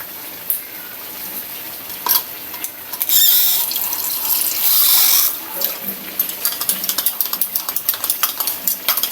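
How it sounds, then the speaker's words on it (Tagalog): Water pouring steadily into a pot of simmering ginataang tambakol stew with squash, okra and coconut milk, close and clear, followed by light clinks and stirring sounds. "Magdadagdag lang tayo ng konting tubig."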